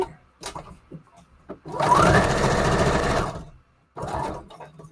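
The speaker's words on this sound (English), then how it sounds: "And now let's do a regular straight stitch on it." A sewing machine runs a straight stitch on a junk journal collage. The loud, even motor whirr starts abruptly and lasts about a second and a half, with short bursts before and after and a few brief handling sounds around it.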